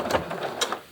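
Sewing machine stitching a straight seam along the top edge of a dress bodice, a short close burst of quick mechanical whirring and clicking with no talking.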